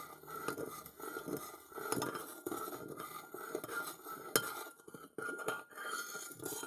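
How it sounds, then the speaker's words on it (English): A spoon stirring sugar, honey and milk, a steady close stream of soft clinks and scrapes of metal against a cup, quiet and continuous with brief pauses. "And stir it nicely."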